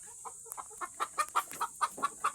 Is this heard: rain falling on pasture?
no